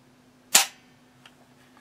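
A single sharp gunshot effect for an SKS rifle, one loud close crack with a short decaying tail, then near silence with a couple of faint ticks.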